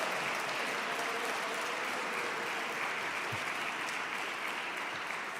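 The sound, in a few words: applause for the King Marching Band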